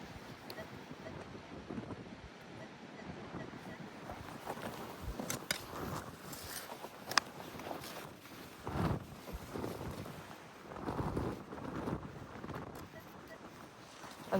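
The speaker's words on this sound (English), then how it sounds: "It's very windy, so I'm just hoping you guys can hear my voice." Strong wind buffets an outdoor microphone during metal detecting, a steady broadband rumble with louder gusts around the middle and later stretches, no voice heard.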